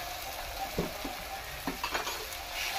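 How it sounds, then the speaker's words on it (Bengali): Spice paste of ground coriander and cumin fries in a pan for a spinach and egg dish, a steady close sizzle broken by a few soft stirring knocks and scrapes. "এই মশলাটা কষতে থাকবে বন্ধুরা, একটু জল দিয়ে কষবো মশলাটা, নয়তো মশলাটা পুড়ে যাবে।"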